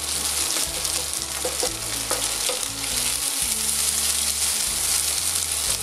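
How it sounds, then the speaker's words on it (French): Potatoes and bacon bits sizzling steadily in a frying pan, a loud continuous crackle with occasional stirring scrapes and clinks, no talking. "on insiste bien sur les pommes de terre. Hein, pour les faire griller un petit peu"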